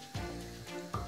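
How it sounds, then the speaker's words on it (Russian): Butter melting in a small saucepan for a béchamel sauce gives a soft, steady sizzle close by, swelling briefly at the start and again near the end. "Хорошо растапливаем сливочное масло"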